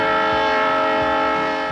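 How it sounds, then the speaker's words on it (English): A train on a scenic historic railway in Oregon sounds a loud, sustained horn-like whistle tone over a low rhythmic rumble of wheels. "Another side trip will take you on a scenic historic railway."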